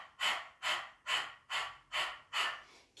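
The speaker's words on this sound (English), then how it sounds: "The breath is equal on the inhale and exhale, the belly pumping strongly on the exhale" Rapid, even panting breaths through an open mouth with the tongue out, like a panting dog, the belly pumping on each exhale; six forceful, regular puffs, close and alone.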